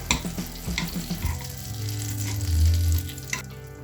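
Butter sizzles and crackles in a frying pan as a quick breakfast begins, a steady bright hiss with a few louder pops near the start, close by and without talk.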